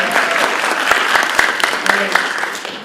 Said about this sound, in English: I need more applause for it if you like this room